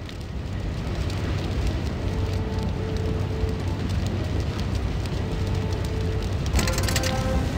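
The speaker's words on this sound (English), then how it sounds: "I can hear the water heating up in the boiler." Water heats up in a boiler in the video game Wizard101, a steady crackling, bubbling roar with faint tonal hums, continuous throughout and briefly brighter near the end.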